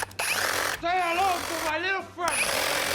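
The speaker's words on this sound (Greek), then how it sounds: "Αυτή είναι σπαθοσέγα λέγεται" A battery-powered reciprocating saw made by Bulle, shown on a TV talk show, runs in a loud buzzing burst that pauses twice while people talk over and between the bursts.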